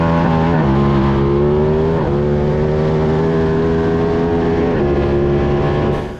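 A motorcycle at or near full throttle out of a sweeping turn onto a track's back straightaway, its engine a loud, steady high-revving drone with pitch climbing between brief dips at the upshifts.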